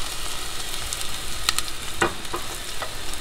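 Onion sizzles in warm oil in a pan while cooking for bacon-wrapped stuffed chicken, a steady hiss with a couple of sharp spatters and taps, close and brief.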